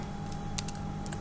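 Code being typed on a computer keyboard: quick, light key clicks in short bursts with small gaps, close and fairly quiet over a faint steady hum.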